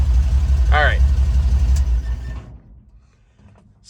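A 1953 Chevrolet 3100 half-ton pickup runs with a loud, raw, rumbling engine close by, briefly under a voice, then drops away to near quiet toward the end.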